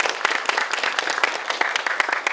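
Audience applause for a speaker at a cultural city center youth event, a dense run of many hands clapping at steady loudness with sharper individual claps poking through, no talk.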